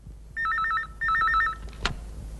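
A telephone bell rings in two bursts of rapid warbling trills, fairly loud and close, followed by a short knock-like click; no one speaks over it.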